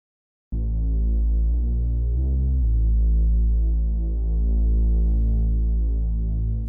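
A deep synthesized bass pad made in the Vital software synth sustains loud and steady, with a brief shift in tone partway through and no voices.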